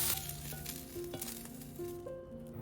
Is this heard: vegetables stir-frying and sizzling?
yes